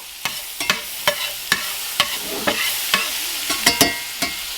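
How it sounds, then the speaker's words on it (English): Freshly caught striped bass sizzling loudly in a buttered skillet over high heat, a continuous frying hiss broken by frequent sharp pops and scraping stirs. "Now this was swimming this morning, and now it's in our skillet."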